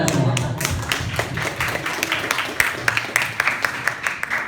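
Applause at a closing ceremony for a community service program, a moderate crowd clapping that thins into scattered individual claps, with some talk mixed in.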